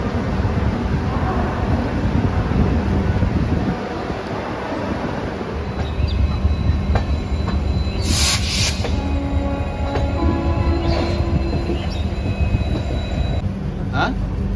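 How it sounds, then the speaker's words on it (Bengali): The Howrah-Digha Tamralipta Express runs on the line, with a loud steady rumble of wheels on rails, rhythmic clatter and occasional metallic squeals, heard from inside the moving train. "ট্রেন নির্দিষ্ট সময় থেকে 1 মিনিট লেটে ছেড়ে দিল হাওড়া স্টেশনের 19 নম্বর প্ল্যাটফর্ম"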